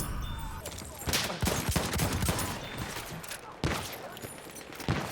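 Battlefield 1 shotgun fire amid a busy battle: sharp, close gunshot cracks at irregular intervals over a constant noisy wash of distant gunfire and explosions.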